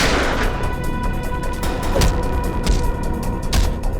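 Gunfire in a tense confrontation, several sharp reports ringing out over a loud, dense background of rumbling noise, with transients scattered across the clip.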